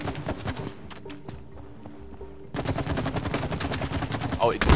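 Gunfire in the video game It Takes Two, rapid repeated shots in quick bursts that grow denser and louder toward the end, mixed with game sounds.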